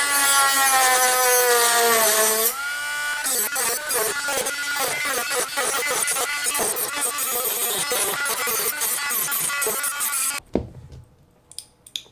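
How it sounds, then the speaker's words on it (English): A hand saw cuts off the end of a metal part on a car inlet setup, a dense rapid rasping stroke after a brief whine, continuous and close for several seconds before stopping abruptly. "try and cut just the end of that off"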